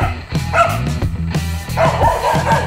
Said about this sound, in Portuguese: Cachorrinho pequeno que não aguenta